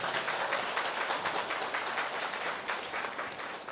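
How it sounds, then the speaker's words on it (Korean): Steady applause from an audience at a business presentation, dense and continuous clapping held at an even level throughout, with no voices above it. "동의하시는 분만 한번 박수 치고 시작하도록 하겠습니다"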